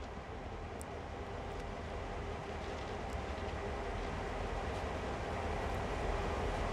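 A CSX heavy-haul freight train in Train Sim World, a steady low rumble and drone of rolling cars and locomotive heard from the cab, continuous and even with faint clicks.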